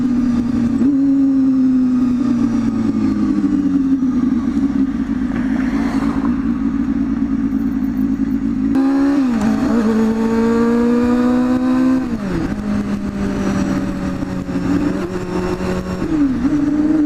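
A motorcycle rides through city traffic past tram tracks, its engine droning loud and close with rising and falling revs and several gear shifts, wind rush over the top.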